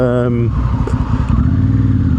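Honda Africa Twin CRF1100 motorcycle, a 2024 model, with its exhaust revving up close, opening with a brief harmonic rise of the engine and then settling into a loud, steady, throbbing drone.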